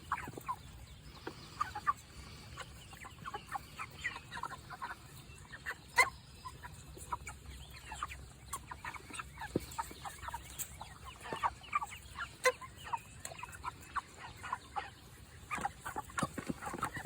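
Seven-week-old Cornish cross meat chickens, faint scattered clucks and soft calls from a flock at a distance, irregular and quiet over a low background hiss, with no talking.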